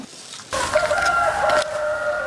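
A rooster crows at dawn in a rural Vietnamese home, one loud, near call rising after a half-second of quiet and holding steady for about a second before trailing off into faint background.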